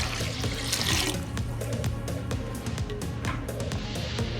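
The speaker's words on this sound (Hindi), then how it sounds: "अब हम इसमें 7 लीटर पानी" Water, about seven litres, pouring into a pot of washed lentils for haleem, a continuous close splashing rush with no voices.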